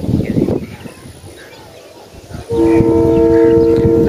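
A train passes outdoors in a scenic valley with a faint rumble and distant birds, then a long, loud sustained horn blast sounds from the midpoint to the end.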